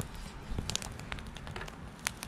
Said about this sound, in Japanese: このパチパチ音。